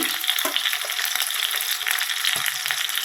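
Marinated, salted chicken pieces frying in hot oil in a pan, a steady bright sizzle with small crackles and pops throughout, no talk.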